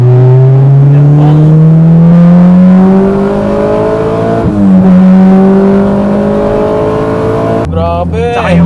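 A Honda Integra with a swapped B18C VTEC engine revs hard while driving, a loud, close in-cabin roar climbing through the gears with rising pitch, easing off and pulling again, with voices briefly heard near the end.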